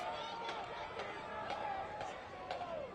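Soccer stadium crowd at Fifth Third Bank during the final minute of extra time in a U.S. Open Cup match, a steady roar of voices rising in urgent calls, with dense babble and swells throughout.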